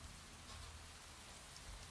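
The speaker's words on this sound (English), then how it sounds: "the sound of rain pattering off Yuri's hood" Rain patters steadily on a hood as an audio drama sound effect, a faint, even wash of drops with a low rumble beneath and no voices.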